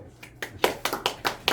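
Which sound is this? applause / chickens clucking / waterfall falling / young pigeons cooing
applause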